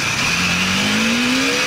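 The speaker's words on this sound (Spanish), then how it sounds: "la moto se limita muy rápido, se limita por acá como a las 9000" Bajaj Dominar 400 motorcycle engine revving up toward its limiter near 9000 rpm, a loud, close, steadily rising engine note held alone without talk.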